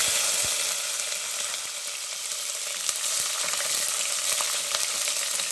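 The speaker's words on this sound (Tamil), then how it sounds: "இந்த வெங்காயம் பூண்டு எடுத்து வச்சுருக்கேன் நான் தனியாக, அது 2 போடுறேன்." Onion and garlic sizzle steadily in hot oil with dried red chillies as the tempering for a fish curry, a loud, continuous crackling fry with faint scattered pops, and no voices.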